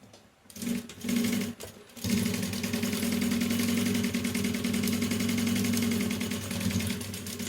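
Sewing machine running steadily as it stitches waterproof fabric for a roll-up toiletry bag, a continuous loud mechanical hum after a brief start and pause, with no talk.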